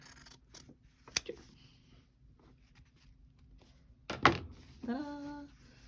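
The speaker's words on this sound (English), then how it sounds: "I like to just grab a pair of scissors and cut it like this" Two or three sharp scissor snips cut through quilt binding fabric, with a quick burst of rustling cloth, then a short tonal squeak at the end.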